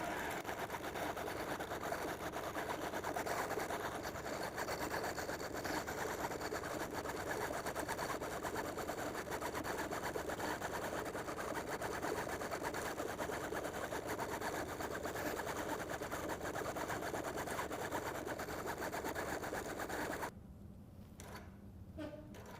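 A computerized quilting machine stitching along quilt sashing, running in a steady, even whir for about twenty seconds before stopping, leaving a quiet room tone.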